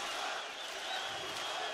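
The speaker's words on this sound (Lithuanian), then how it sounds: "Žalgirio arena skanduoja Lietuva" A packed crowd at Žalgiris Arena chants "Lietuva" during an MMA fight at UTMA 9, a steady, roaring mass of voices that fills the hall without pause.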